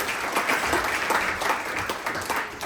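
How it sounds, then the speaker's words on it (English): Sustained audience applause at a talk on high street retail and consumer behaviour, an even, fairly loud crowd of clapping hands with no break across the clip. "Give one more round of applause to Colin, please."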